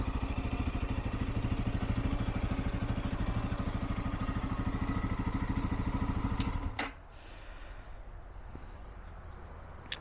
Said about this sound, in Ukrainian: О, він зразу завівся. Ніяких завтиків щодо акумулятора чи стартера.